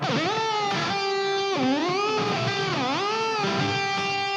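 A sustained electric guitar note bent with whammy bar dips, deep swooping pitch dives that return several times, loud and close, no talking.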